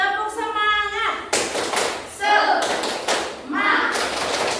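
A classroom of pupils doing a spirit clapping chant, loud bursts of rhythmic claps and thuds alternating with chanted voices, close and energetic throughout.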